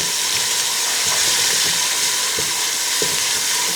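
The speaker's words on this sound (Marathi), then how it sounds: "आता जो ठेचा आपण तयार केला तो ठेचा घालूयात वा आणि ठेचा देखील परतायचा" Green chilli thecha frying in oil in a pan for sabudana khichdi, a steady close sizzle and hiss with a few soft stirring clicks, no talking.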